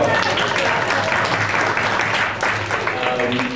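An audience applauds at a panel event at the African American Museum of Philadelphia, a dense, loud, sustained wash of many clapping hands that continues throughout.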